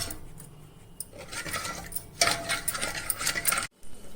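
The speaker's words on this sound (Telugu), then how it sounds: "మనం పంచదార కరిగి పాకం వచ్చే వరకు దీన్ని కొంచెం కలుపుకుంటామండి" A spoon stirs melting sugar syrup in a pan while making a wheat-flour and coconut sweet: steady scraping and gritty rustling, loud and close, with a brighter burst of scraping near the end and no talking.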